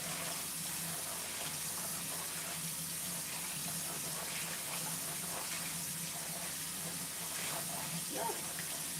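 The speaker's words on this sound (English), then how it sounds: "I'm going to just wash that rice. You pretty much just want the water to" Tap water runs steadily into a pot of rice being rinsed for jollof rice, a continuous hiss and splash with faint sloshing and no voices.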